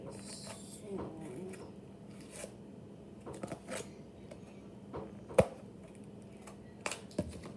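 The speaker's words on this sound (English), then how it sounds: "This cardboard is very hard to cut with scissors." Scissors cut through hard cardboard for a DIY fidget toy, giving scattered close snips and crunches over a quiet room, with faint handling noise between cuts.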